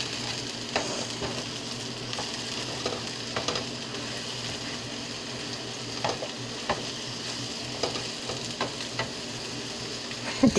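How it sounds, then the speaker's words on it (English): Food fries in a home kitchen pan with a steady close sizzle, broken by repeated soft scrapes and knocks of a utensil stirring it through. "stir it all up, put it all together"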